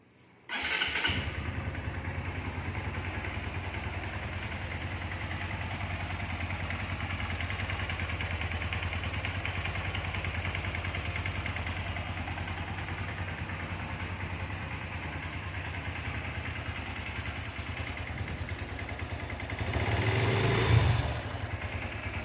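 A 2022 Honda CB Verza motorcycle engine starts up and idles steadily, not very loud, then revs briefly near the end before settling again.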